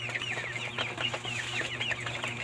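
A flock of 26-day-old broiler chickens clucks steadily in their pen, many overlapping soft chirps and clucks close by over a constant low electrical hum.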